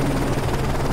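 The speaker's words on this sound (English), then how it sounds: "Enemy chopper closing on your position." An enemy helicopter closes in during a Call of Duty: Modern Warfare 3 single-player campaign mission, a steady rotor drone with a dense low throb holding at constant loudness through the whole second.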